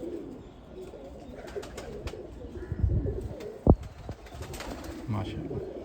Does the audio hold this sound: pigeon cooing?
yes